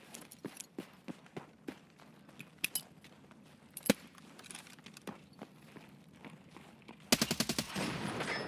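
Machine gun fire in Escape From Tarkov, with scattered single shots and cracks through the middle, then a rapid burst of automatic fire near the end that swells into a loud, dense roar.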